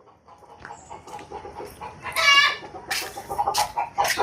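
Backyard chickens cluck and squawk near a Kerala home, scattered soft calls building to a louder, closer burst of excited cackling in the middle, with a few more sharp clucks at the end.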